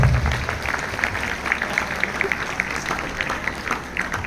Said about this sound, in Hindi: तो उसके लिए एक बार जोरदार तालियां हो जाए